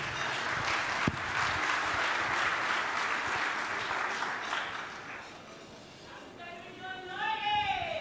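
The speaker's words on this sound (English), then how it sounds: "Warm round of applause." Audience applause at an Africa Day celebration, a steady wash of clapping from a large crowd with a sharp nearby clap early, fading toward the end as whistling or whooping voices rise over it.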